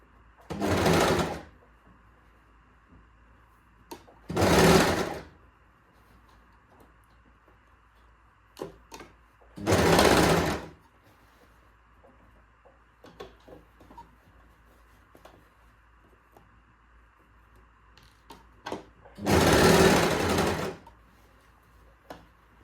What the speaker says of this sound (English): now I'm going to start sewing this leg hole